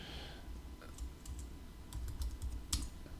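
Someone types on a computer keyboard in a quiet room, producing faint, irregular keystroke clicks in short bursts with no talking.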